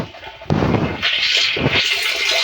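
Water pours into a tank holding a cut jamun branch, starting abruptly as a close, rushing, gurgling flow that keeps running steadily.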